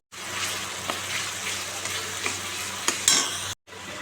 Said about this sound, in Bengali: দিয়ে দিচ্ছি এবার অল্প অল্প করে টক দইটা